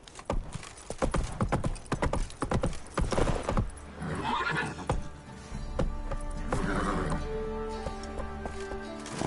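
Horse hooves galloping in The Witcher 3, a rapid repeating clip-clop rhythm with a neigh or whinny, loud and near, with game music in the background.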